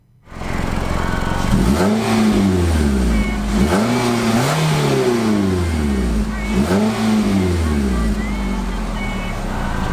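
A 2017 Nissan Rogue engine revs up and drops back several times in a row, loud and close, each rise sweeping smoothly up in pitch.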